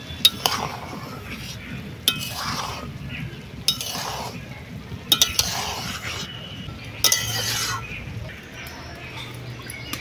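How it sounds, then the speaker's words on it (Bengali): Pulao rice with cashews, raisins and carrots is stirred slowly in a clay pot, giving gentle scraping and clinking strokes with a few sharp knocks over a low background rumble. "আস্তে আস্তে নাড়তে হবে।"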